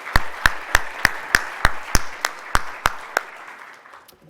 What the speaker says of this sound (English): So, round of applause, congratulations to our ASCO presentations this year.